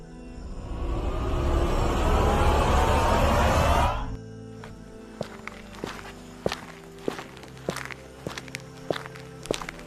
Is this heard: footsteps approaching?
yes